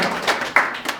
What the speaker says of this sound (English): So I think let's give her a round of applause.